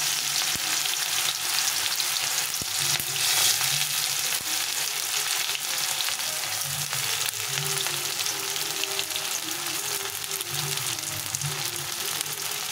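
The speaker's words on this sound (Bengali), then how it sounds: "পেঁয়াজটাকে ভালো করে লাল লাল করে ভেজে নিতে হবে" A handful of onions and whole garlic cloves frying in caramelized sugar for a chicken dish, giving a continuous loud sizzle with occasional stirring scrapes. No one speaks.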